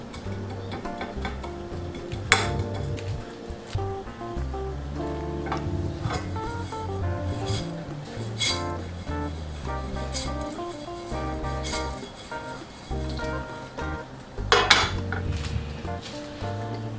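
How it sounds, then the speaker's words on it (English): Oats roast in a pan on the stovetop for granola. A utensil scrapes and clinks against the metal pan in irregular taps, with a few sharper knocks over a soft background of music. "the oats are taking a longer time to roast a little bit"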